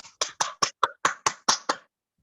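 Nine sharp, evenly spaced hand claps ring out close and dry, like a brief burst of clapping that stops abruptly, with no talk over it.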